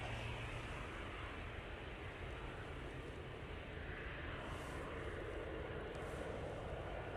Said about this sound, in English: So that TUI is moments away from landing, so we're going to send the camera down there.